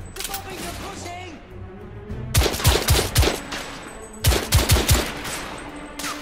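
Gunfire in The Order: 1886 crackles in two sharp bursts of rapid shots, each followed by echoing reports, over a steady background of battle ambience.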